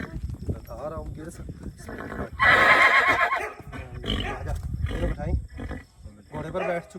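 A horse whinnies loudly in the middle of the clip, mixed with people talking nearby and shuffling movement.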